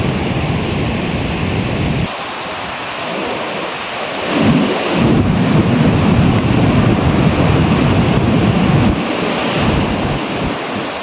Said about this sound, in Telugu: జస్ట్ ఈ సముద్రం సౌండ్ వినండి,